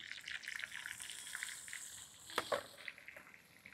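Curry leaves, cumin, mustard seeds, garlic, green chilli and ginger frying in hot oil, a steady low sizzle throughout with a couple of sharper pops and crackles near the end.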